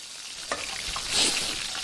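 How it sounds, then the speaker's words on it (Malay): Fish roe frying in a pan in an animated kitchen scene, a steady close sizzle with light stirring scrapes and a brief louder crackle midway, heard alone. "apa yang kau goreng tu? Telur ikan."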